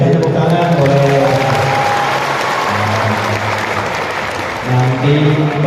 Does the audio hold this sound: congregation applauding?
yes